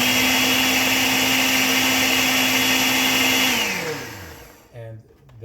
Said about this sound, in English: I am just going to blend that